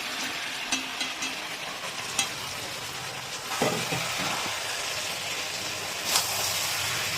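Chopped cabbage fries and sizzles in a pan over a high gas flame, added after tomatoes, with a steady hiss. Occasional sharp scrapes and clacks come from a spatula stirring it.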